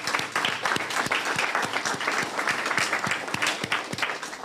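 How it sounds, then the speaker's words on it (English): At a youth civic awards ceremony, a crowd gives staff a warm round of applause, many hands clapping densely and continuously at close range throughout. "just give them a nice round of applause"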